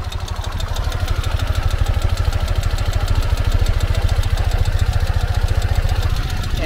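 2021 Ural cT motorcycle, Terracotta, its engine idling in second gear with a steady, loud, evenly pulsing thump that runs the whole time with no talk.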